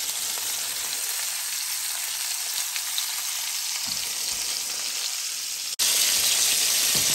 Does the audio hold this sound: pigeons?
no